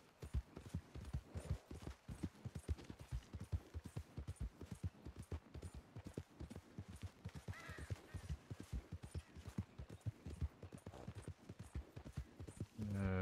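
Horse hooves clip-clop in a steady, brisk rhythm while riding in the video game Red Dead Redemption 2, continuous and fairly close throughout.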